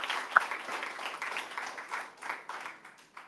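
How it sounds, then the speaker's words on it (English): Audience applause at a live community gathering, a steady spread of clapping at moderate level that thins and fades toward the end, with no voices over it. "So I really want to give you all a round of applause for that."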